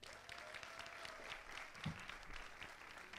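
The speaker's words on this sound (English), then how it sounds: "Can we give one more round of applause for all these rock star ladies?" Faint, distant applause from an audience at a women's real estate panel event, a soft continuous patter of many hands lasting a few seconds.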